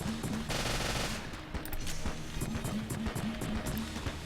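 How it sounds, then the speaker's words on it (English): Rapid, dense gunfire from the pox cannon in the video game Enter the Gungeon during a boss fight, steady bursts of shots layered over game music with no pauses. "This pox cannon is bloody great against boss."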